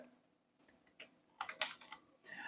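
Several scattered clicks from typing on a computer keyboard while entering a heading in a Canva text design, irregular keystrokes coming in small bursts, fairly close and quiet against a soft background hiss.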